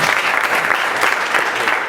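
A crowd at a live public gathering in Mbandaka breaks into loud, dense clapping for a group of young men, a steady close wash of applause with a faint murmur of voices underneath.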